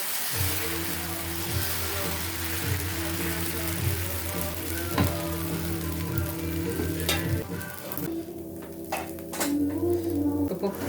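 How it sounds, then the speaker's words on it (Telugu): Dosa batter sizzles and fries steadily on a hot pan in a home kitchen, a continuous crackling hiss with occasional light clinks of a utensil against the pan, close and fairly loud. "దోశ వేసుకున్నామండి ఇప్పుడు."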